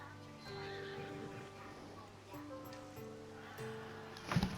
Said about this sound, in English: That's a nice horse, Socrates. It's a very nice horse